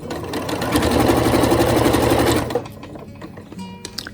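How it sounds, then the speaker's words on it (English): A sewing machine stitches the folded edge of a simple skirt near the vent, running loud and steady for about two and a half seconds before stopping, followed by quieter handling clicks and rustles. "Folding it out and just we'll be sewing this edge."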